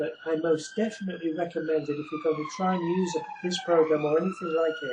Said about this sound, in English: so you're going to get that siren from time to time.